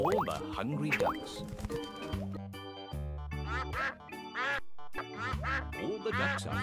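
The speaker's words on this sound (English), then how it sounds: "Look at all the hungry ducks." Cartoonish ducks quack in the Peppa Pig Fun & Games video game on Nintendo Wii, a string of bouncy, repeated quacks mixed with playful game music and sound effects, close and steady throughout.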